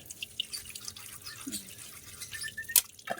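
Water drips at a kitchen sink during dishwashing, with a few scattered, quiet drops and light splashes over a soft background, and one sharper splash near the end.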